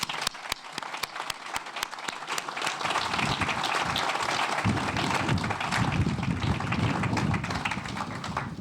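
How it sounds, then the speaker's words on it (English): Crowd at an outdoor bus rapid transit groundbreaking ceremony giving a round of applause, starting with a few isolated claps that swell into sustained dense clapping, fairly close, with faint voices mixed in. "I'd love to have you guys join me in a round of applause for all of the partners"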